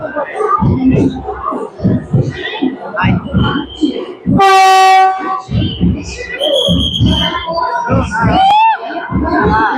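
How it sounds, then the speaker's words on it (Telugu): Vande Bharat Express pulling out of a station in the rain, a sharp harmonic horn blast midway amid rolling rail noise and crowd chatter, with someone talking close by throughout. "సో బయలుదేరినండి, వెళ్తుంది ట్రైన్."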